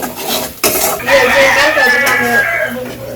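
A metal spoon scrapes and clatters against a pot while dried fish is stirred with salt, turmeric and chili, loud and close, with voices and a chicken clucking nearby in a village setting.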